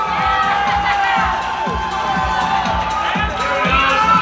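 Crowd at a natural bodybuilding contest for the Mr. America title cheers loudly and steadily, with whoops and shouts over a continuous roar and rhythmic thumping music underneath, close and full throughout.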